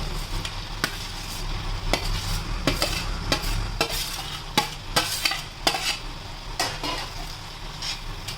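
Grated paneer for dhaba-style paneer bhurji is stirred in a hot pan: a spatula scrapes and taps at a regular pace over a constant close sizzle, with no voices.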